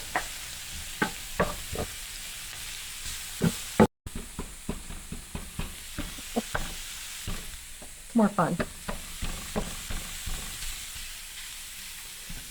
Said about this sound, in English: she likes to use the mix and chop in the pan to break them up in the pan